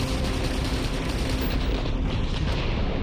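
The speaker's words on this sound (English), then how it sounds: "Take some missiles from me on the house." Missile launches and explosions in the video game Starfield, a dense continuous roar of booming blasts and bursts filling the whole stretch, loud and unbroken with no talk.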